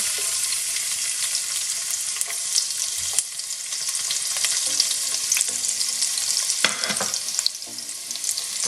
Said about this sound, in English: And I'm gonna add the chopped garlic now.